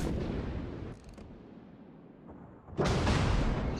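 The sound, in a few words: Des Moines ship guns firing in World of Warships video game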